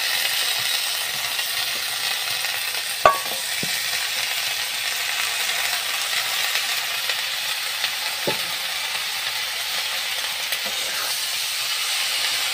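Chopped bottle gourd leaves go into a pan of already-fried potatoes, raising a steady, fairly soft hiss and sizzle of oil, with a sharp clink or two from stirring.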